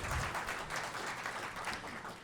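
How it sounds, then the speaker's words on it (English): A small audience at a live music performance claps in a soft, continuous patter of applause, quiet and somewhat distant throughout. "Give yourselves a round of applause."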